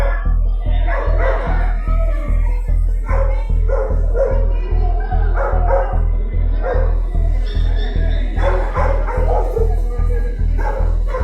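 A police dog barks and yips repeatedly in quick succession, loud and close, with some whimpering, over a steady low hum.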